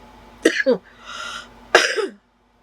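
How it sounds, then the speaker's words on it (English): Two separate harsh coughs, close to the mic, with a short gap between them and a faint hum behind. "The coughing has started."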